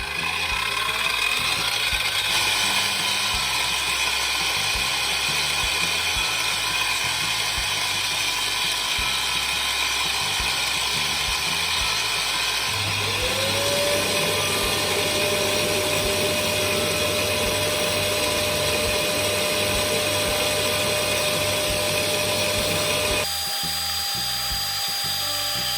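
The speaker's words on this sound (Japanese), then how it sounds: "白い樹脂に穴を開けます。" A power drill bores holes in white resin with a loud, continuous high whine close by, the pitch shifting slightly partway through before the motor cuts out near the end.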